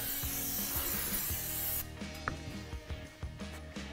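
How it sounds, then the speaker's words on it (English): Brake cleaner sprays in a steady hiss onto an ARB air locker for a 2021+ Ford Bronco, the broadband spray lasting about two seconds and then cutting off into soft rubbing and handling sounds of the part being wiped. "So a little bit of brake clean on the outside."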